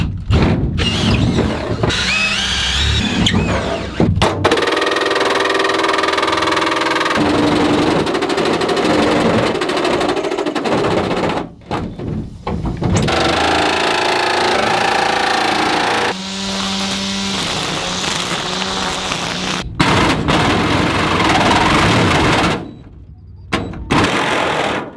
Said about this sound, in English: I'm probably gonna have to use a sawzall to cut this big thick metal here.